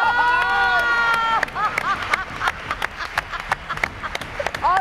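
Audience applause at a Turkish fashion and style show, scattered clapping and cheers that rise after a loud sung musical passage fades, continuing unevenly in the room.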